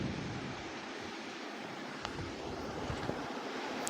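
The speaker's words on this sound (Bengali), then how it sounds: "এবার অল্প পরিমাণে জল দিয়ে দেব।" Water poured into a hot pan of lote fish curry, producing a steady broad hissing rush that holds evenly for several seconds, close with no talk.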